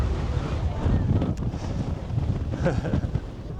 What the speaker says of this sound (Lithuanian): Ir daug vėjo.